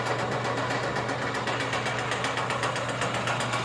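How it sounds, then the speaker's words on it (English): A rebuilt DMC 40 HI-CAP rotary grain cleaner runs steadily, its auger drive motor keeping up a constant mechanical hum with a fast, even rattling pulse and no pauses. "see the auger drive motor working up there"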